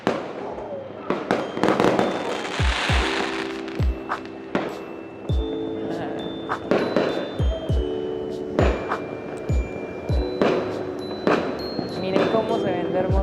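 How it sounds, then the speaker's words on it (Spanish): Fireworks bursting at La Alborada in Medellín, a dense run of sharp booms and crackling pops, some near and loud, others farther off, with whistling trails between blasts and voices faintly underneath. "se ven allá un montón de fuegos artificiales"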